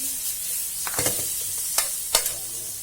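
A spoon stirs and mixes bhaji with added sugar in a hot pan, the soft scrapes over a low sizzle broken by a few sharp clacks against the metal, heard close with no talking.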